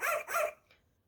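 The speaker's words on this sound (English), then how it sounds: "Foo-Foo barked." Two quick, bright dog barks from a Muppets sound-button book, sharp and close, the second followed by a faint short yip before silence.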